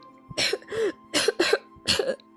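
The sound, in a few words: fit of coughing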